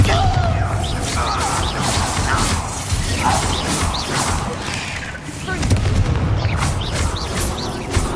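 A Bombarda blasting spell going off during a Hogwarts Legacy duel: dense, loud crashing blasts and rumbling impacts that continue throughout, with a shouted voice at the start.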